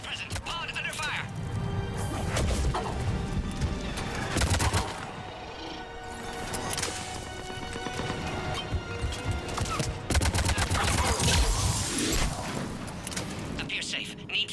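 Scattered gunshots and booming impacts from the video game Mass Effect 3 sound through a battle, coming in bursts beneath frequent in-game voices talking over the action.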